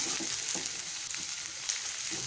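Sliced onions fry in hot oil for a paneer and veggie roll, with an even crackling sizzle and faint stirring taps, up close and without speech.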